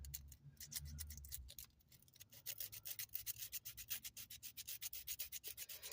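Scissors being sharpened produce quick, rhythmic rasping strokes up close, a steady series of scraping rubs that speeds into a regular beat, fairly quiet with no talk.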